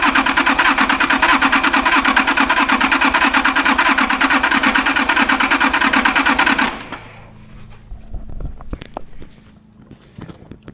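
International AL truck engine, mid cab-swap build, running with a loud, steady rhythmic clatter for about seven seconds, then cutting off abruptly, leaving faint shop noises and scattered knocks.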